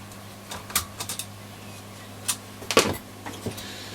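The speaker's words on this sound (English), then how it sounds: "I'm just taking the two screws out the top of the switch" Screws are removed from the switch panel of a Roberts R600 radio, giving sparse, close metallic clicks and small scraping taps with pauses between them, quiet and with no talk.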